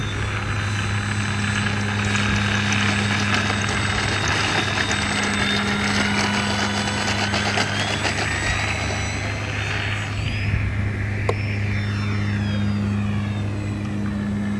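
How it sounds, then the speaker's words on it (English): Engine of an RC Arrows 1100 mm F8F Bearcat model airplane on its maiden takeoff, a loud steady electric-motor whine with strong constant tones that rises in pitch and pulls away near the end. "we're taking off with the Aero's F8F Bearcat"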